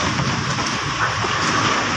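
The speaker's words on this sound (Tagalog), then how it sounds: "Malakas din ang buhos ng ulan." Strong typhoon-like wind with heavy rain in Pampanga, Philippines, a loud, dense, continuous roar of gusting wind and pouring rain with no speech.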